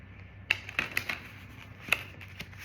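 Tarot cards are shuffled by hand, a quiet run of sharp riffling clicks and soft snaps that comes in irregular bursts, close up.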